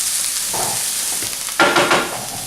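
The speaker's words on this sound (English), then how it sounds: "once we've added the garlic, we really want to just give it a quick stir" Fresh garlic frying in a pan sizzles softly, then a quick stir brings a louder burst of scraping and crackling close by, with no talk.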